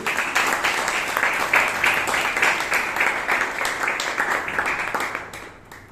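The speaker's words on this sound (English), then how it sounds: "Let's put our hands together for our president, Vijay. Round of applause, please." Members at a Toastmasters club meeting applaud their president, a steady, moderately loud round of clapping that holds for several seconds and then tapers off at the end.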